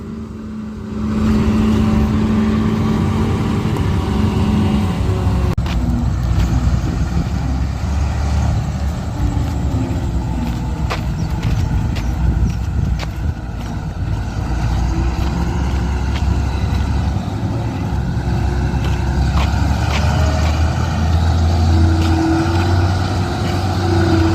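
A Kartar combine harvester engine runs in a soybean field, a loud, continuous diesel drone with a steady low hum that shifts slightly in pitch partway through, close by and without talk.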